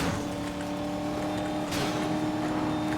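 A race car's engine drones steadily and loudly in Need for Speed: Most Wanted (2012) while overtaking rivals, with a brief rushing swell partway through.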